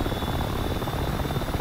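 A helicopter in a World War II Normandy combat video game thrums continuously, a steady rotor and engine roar that fills the clip without anyone talking.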